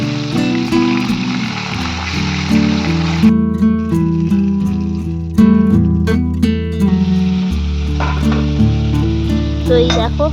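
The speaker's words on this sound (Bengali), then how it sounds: "তো দেখো একদম টাটকা মাছ, খুব সুন্দর ভাজা হচ্ছে।" Fresh khoira hilsa fish frying in oil, with a hissing sizzle running beneath loud tonal background music throughout.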